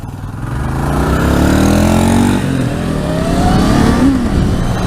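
A KLR motorcycle engine revs up and holds a steady, loud drone, its pitch rising and then shifting, close by with no talk.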